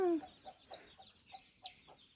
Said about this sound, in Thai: ไก่น้อยนะ ดูดิน่างักอะ